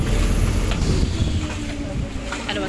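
A boat on the Grand Canal in Venice at the Rialto gives a steady low engine and water rumble with wind buffeting the microphone, continuous and fairly loud throughout.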